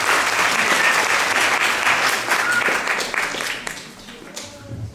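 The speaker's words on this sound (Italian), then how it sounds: "Grazie al professor Carlomagno, facciamo un applauso." An audience applauds Professor Carlomagno at a poetry event in Lagonegro, a dense burst of clapping that holds strong for several seconds before thinning and fading toward the end.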